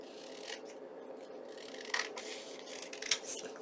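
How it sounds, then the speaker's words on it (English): Scissors snip and rasp around the edges of an old book page, making quiet, intermittent cutting and scraping sounds over a faint steady background hum. "So bringing in my scissors and simply cutting around my book page."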